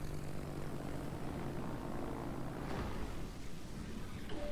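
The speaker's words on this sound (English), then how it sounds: "Now we're going to go ahead and start with torpedo planes." Torpedo planes in a World War II naval combat video game drone with propeller engines, a steady, loud, continuous roar that stays even throughout with no speech.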